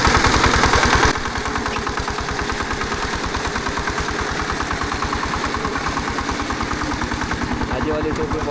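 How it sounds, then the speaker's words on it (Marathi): A tractor churns mud to puddle a flooded rice paddy in the Konkan, its engine chugging in a fast, even pulse that stays loud and close throughout. "इकडे पप्पानी ट्रॅक्टर पकडला आहे"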